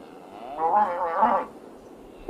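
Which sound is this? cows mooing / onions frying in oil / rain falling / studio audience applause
cows mooing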